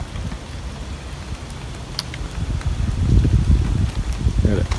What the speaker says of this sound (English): We got the rain coming back again.